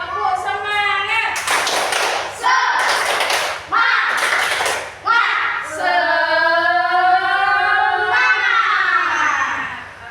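A classroom of students performs the rhythmic 'tepuk semangat' clapping chant, with bursts of sharp group claps alternating with loud chanted voices in a steady pattern.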